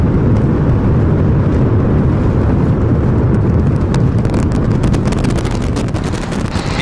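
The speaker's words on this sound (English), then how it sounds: "We have liftoff. Go Super Heavy, go Starship." Deep, continuous roar of a SpaceX Starship Super Heavy rocket lifting off, loud and rumbling without a break, with crackling bursts growing more prominent toward the end.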